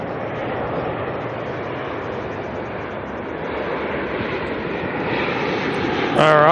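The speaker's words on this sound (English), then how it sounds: "we've got an ATR coming on in from Napier" An ATR turboprop airliner arriving from Napier at Auckland at night gives a steady engine drone that grows louder toward the end, where a short voice cuts in over it.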